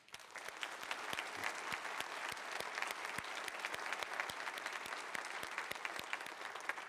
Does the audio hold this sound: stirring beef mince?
no